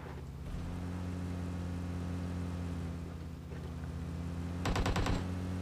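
In a shooter video game near an apartment, a short burst of rapid enemy gunfire crackles late in the clip over a steady vehicle engine hum, with no talk.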